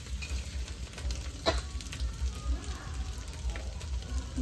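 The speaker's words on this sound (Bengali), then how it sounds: "ডিমটা এখন ভেজে নেব।" An egg frying in a pan gives off a steady crackling sizzle close by, with a few sharper pops and scrapes, and a faint low hum running underneath.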